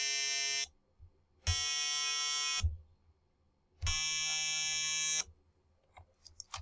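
A microcontroller timer drives a small speaker through three sustained electronic tones, each held roughly a second, separated by short pauses and buzzing with bright harmonics, followed by faint clicks.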